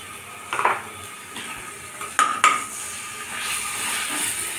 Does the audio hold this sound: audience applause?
no